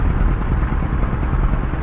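A simulated Fw 190 A-8 fighter's piston engine runs steadily after the throttle is set to 1400, a continuous low rumbling drone with no break across the clip and no voices.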